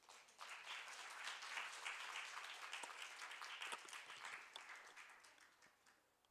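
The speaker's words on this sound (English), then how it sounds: "let's welcome our presenter with a big round of applause onto the stage" Sustained audience applause welcoming a presenter onto the stage at a 2022 SSAEM conference, a dense, steady wash of many hands that starts abruptly, holds for about five seconds, then thins and tapers off near the end.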